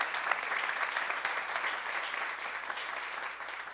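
Steady applause from a church congregation at a seminar fills the whole stretch, dense and continuous at an even level with no voices standing out.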